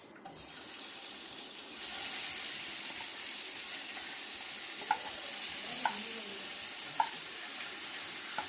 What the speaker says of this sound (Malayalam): അതിലോട്ട് 1 ടേബിൾ സ്പൂൺ വെളിച്ചെണ്ണ ചേർത്ത് കൊടുക്കാം. ഇനി ചിക്കൻ ചേർത്ത് കൊടുക്കാം.